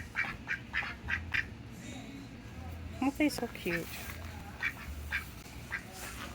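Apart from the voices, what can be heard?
ducks quacking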